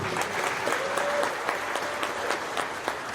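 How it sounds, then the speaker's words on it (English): A live audience at a fan podcast Q&A claps in a sustained burst of applause that stays even throughout, with a faint voice showing through the clapping. "Give them a big round of applause"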